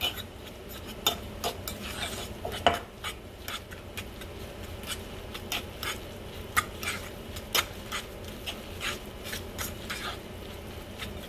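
Salmon cake mixture with parsley and garlic salt being mixed in a bowl, a steady run of scraping, clinking utensil strokes at an even rhythm, close, with no talking.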